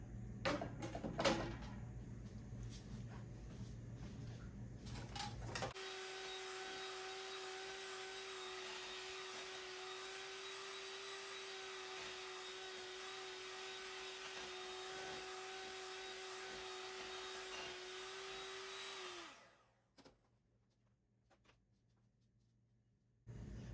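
An electric mixer whips meringue egg whites with a pinch of salt, a steady loud motor whine holding for about fourteen seconds before winding down, with some clatter and handling noise at the start.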